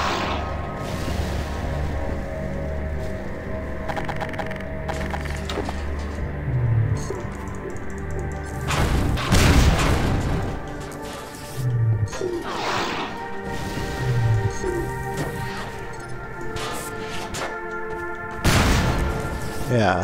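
Gunfire from a weapon in Half-Life 2: Lost Coast: several loud, sharp shots spaced out irregularly over continuous game ambience, with occasional speech between them.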